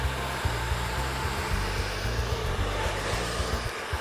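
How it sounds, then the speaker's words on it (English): A hair dryer runs steadily and loud throughout, blowing hair straight back during a smooth straight blow-out, with a constant low hum and airy rush and slight wobbles as it moves, no talking. "You want to dry everything straight back."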